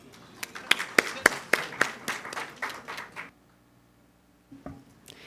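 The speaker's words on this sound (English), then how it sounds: "please join me in welcoming Madame Katharina with a big clap for her" Scattered applause welcoming a speaker at a UN climate finance forum: a dozen or so distinct, loud claps in an uneven rhythm for about three seconds, then near silence, followed by a couple of faint bumps.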